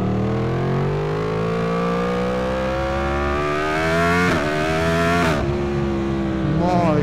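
A Yamaha MT-10 SP motorcycle accelerates hard, its engine note climbing steadily in pitch through a long rising pull, with quick shift breaks near the end, loud and close, alone without talk.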